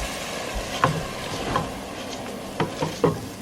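Beef paya frying with yogurt in a pot, stirred by hand, giving a steady soft sizzle with scattered scraping knocks of the spoon against the pot.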